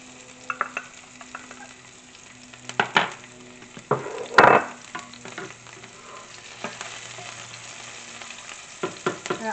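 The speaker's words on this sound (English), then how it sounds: "So now we're going to add in the jalapenos, which is seeded and sliced." Seeded, sliced jalapenos hit very hot oil in a saute pan, giving a steady close sizzle with a louder burst of spattering a few seconds in, plus the occasional scrape of a spatula.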